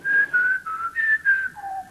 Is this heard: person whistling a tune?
yes